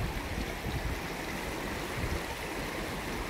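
Lagoon stream flowing out to meet the Indian Ocean at Cola Beach, Goa, a steady close wash of rushing water with a low rumbling undertone, continuous and even throughout with no voices.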